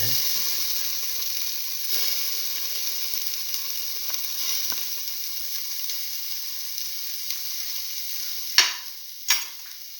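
Ginger tipped into a hot pan sizzles and fries steadily while being stirred, with a soft continuous hiss and two sharper scraping clatters near the end.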